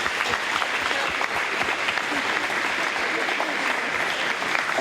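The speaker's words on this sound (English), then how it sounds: "Round of applause for her, please." An audience at a county fair queen contest applauds the reigning fair queen, a steady, moderately loud crowd clapping that continues unbroken for the whole stretch, with faint voices mixed underneath.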